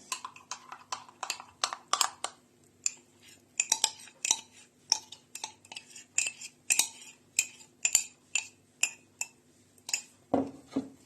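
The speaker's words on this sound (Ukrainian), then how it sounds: "зараз заливаємо крахмаль і розмішуємо" Starch being stirred into a cherry filling in a pot, heard as a steady run of sharp metallic clinks and taps of a utensil against the pot, evenly spaced and close, with no talking.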